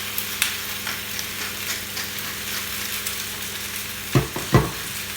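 Roasted peppers and tomatoes sizzle steadily in a pan as they gently caramelise, with continuous close frying crackle and a couple of louder thumps of stirring near the end.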